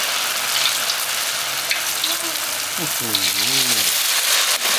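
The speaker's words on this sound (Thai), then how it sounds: "ทอดอันนี้จะต้องใจเย็นนะคะ เดี๋ยวมันจะไหม้ค่ะ" Banana blossom fritters fry in hot oil with a loud, dense, continuous sizzle and crackle close by, while a voice speaks briefly partway through.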